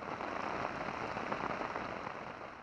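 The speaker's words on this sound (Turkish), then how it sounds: "Sabah saatlerinde başlayan sağanak yağış kısa sürede etkisini arttırdı." A heavy spring downpour in Adana makes a steady, dense hiss of rain falling on hard surfaces, constant and fairly close, with no voices.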